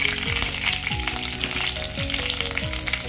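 Methi seeds, urad dal and chana dal fry in hot oil with a continuous close sizzle and crackle, over faint background music and no talk.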